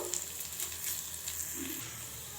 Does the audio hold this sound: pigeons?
no